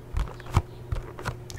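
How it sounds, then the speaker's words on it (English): Soft, sticky tacky finger taps and peels sound up close in a quiet room, a handful of brief, faint clicks spaced unevenly across a couple of seconds. "the sticky finger sounds"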